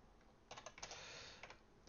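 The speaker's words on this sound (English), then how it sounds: "In case you're wondering while I'm typing this" Quick, light clicking of keys on a computer keyboard, a short burst of typing, close and fairly quiet.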